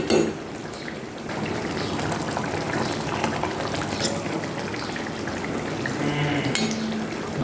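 Pabda fish curry simmering and sizzling in a pan, a steady dense bubbling-frying hiss with occasional faint clinks, close and continuous throughout.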